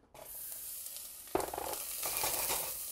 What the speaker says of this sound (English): as you can hear that sizzle go right away